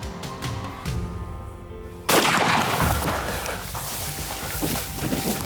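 A hunting rifle shot at a Cape buffalo in Tanzania, a single sharp loud report followed by a long rolling echo and rumble, after quieter ambient field sounds.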